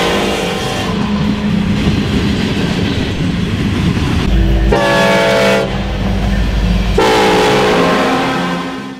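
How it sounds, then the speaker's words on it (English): A freight train hauling NASA rocket boosters passes close by. Steady rolling rumble and clatter of cars, with two long, loud horn blasts partway through. "that is how we have the train like this today, with power on front and many buffer and spacer cars in between"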